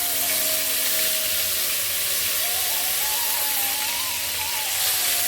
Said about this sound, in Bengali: এর মধ্যে আমি দিয়ে দিলাম স্লাইস করে কেটে রাখা পেঁয়াজ।